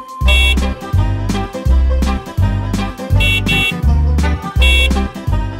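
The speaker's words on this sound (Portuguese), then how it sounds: "A buzina do ônibus toca, toca, toca pela" Musical bus horn honks sound in a children's song, a loud, rhythmic run of repeated toots set to a steady beat.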